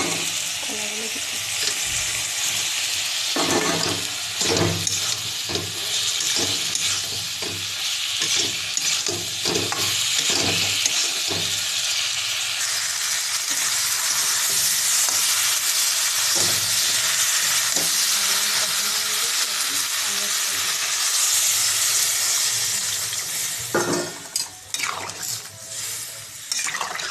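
Green bananas fry in a pan, giving a continuous hissing sizzle with scraping and stirring sounds throughout, occasional clanks of the utensil, and some background voices.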